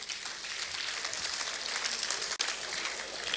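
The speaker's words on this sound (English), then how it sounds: "I'd like us to please give him another round of applause." An audience applauds a speaker with dense, steady clapping that carries on without a break, interrupted by one brief dip.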